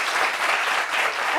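Dense audience applause at a live discussion meeting, a steady close wash of many hands clapping together with no talk over it.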